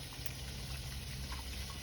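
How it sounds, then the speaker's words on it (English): Cold water pours into a pot of boiling water before rice is cooked, making a steady, close gushing splash with a low rumble beneath it throughout, and nobody speaks. "We're gonna add a little cold water to it"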